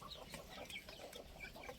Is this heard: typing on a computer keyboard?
no